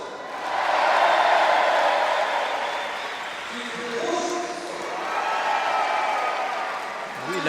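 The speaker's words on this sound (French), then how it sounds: "l'applaudimètre est clairement du côté des Bleus" Crowd applause and cheering for the Blue players at a Cesta Punta semifinal in the Internationaux de Cesta Punta, a broad sustained roar that swells and eases, with a commentator speaking over it.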